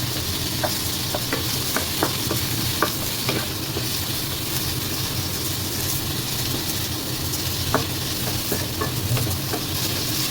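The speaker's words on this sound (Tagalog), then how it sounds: "So, lagyan natin yung sibuyas at luya. Ayan guys, sibuyas, luya." Onion and ginger go into hot oil after golden garlic in a pan for dried pork adobo with pineapple, giving a steady broad sizzle with scattered clicks of stirring throughout, close and even, with no talking.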